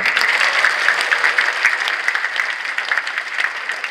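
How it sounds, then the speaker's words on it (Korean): At a 2022 multicultural migrant choir competition, the audience breaks into a short burst of applause to cheer on the neighboring teams, many hands clapping in a lively, uneven patter. "다시 한 번 큰 목소리로 또 큰 박수로 옆에 계신 분들을 격려해 주십시오"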